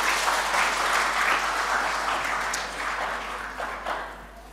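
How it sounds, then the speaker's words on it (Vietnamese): A church congregation claps together during a Vietnamese Protestant sermon, a full, dense burst of applause that stays strong and then gradually thins and fades toward the end. "Hãy vỗ tay cảm tạ Đức Chúa Trời."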